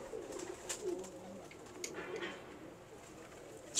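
A black pigeon, a flyer kept by a pigeon fancier, coos in soft low murmurs over a faint background hiss, with a couple of brief sharper sounds near the end.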